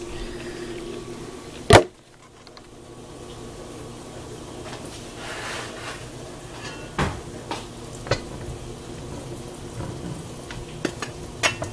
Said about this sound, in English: now you're going to add the beef in there